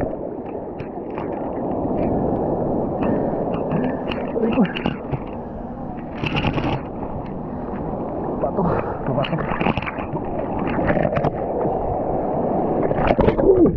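Big ocean waves roll and crash at Abagatanen Beach in Pangasinan, a steady broadband surf roar that swells and breaks continuously, with people talking nearby over it.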